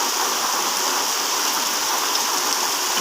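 Heavy rain pours steadily over a village, a dense, even hiss of drops on surfaces that holds constant throughout with no voices.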